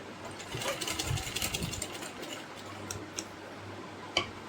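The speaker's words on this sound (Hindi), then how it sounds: "इसको बाहर की साइड से इस तरीके से हम पूरे कॉर्नर पे सिल लेंगे" A sewing machine stitches a bias strip around the corner of a baby frock, a soft steady ticking hum at moderate distance, with a brief sharper tap near the end.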